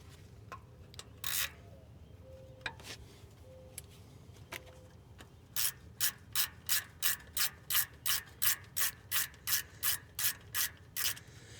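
Ratchet wrench turning 9/16 bolts on the power steering pump of a 1975 GMC, a few scattered clicks early, then a steady run of about fifteen sharp, evenly spaced ratcheting clicks, close and clear over low background hum.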